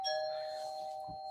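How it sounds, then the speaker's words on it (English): A two-tone electronic doorbell rings once indoors, its sustained chime holding steady before fading, followed by a brief soft knock or thump at the end; no one speaks over it. "that's my doorbell again"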